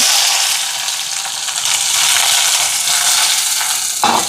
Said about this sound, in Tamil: வெங்காயம் நல்லா வதங்கி வருது